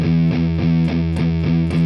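Heavily distorted electric guitar plays a riff in even straight eighths, a loud, steady chugging pulse with evenly spaced palm-muted attacks and no voices.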